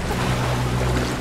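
A character moves through water in Tomb Raider, a loud, steady wash of churning water and rushing noise with no voice over it.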